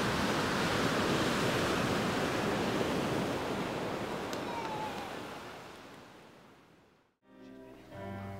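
Ocean waves at a beach make a loud, continuous broadband wash of surf with wind buffeting the microphone, fading toward the end before cutting out abruptly, followed by a brief quieter tail.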